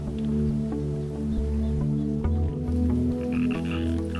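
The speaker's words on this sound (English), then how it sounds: "frogs seem to announce the arrival of nightfall" Frogs croak at nightfall along the Snohomish River, a dense chorus of steady, repeating low calls that overlap continuously and sound fairly close, with no voices present.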